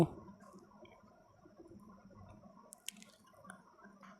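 Small pieces of semolina dough for motichur laddu fry in oil over low heat, giving a soft, steady bubbling sizzle with a few sharper pops scattered through it. No one speaks.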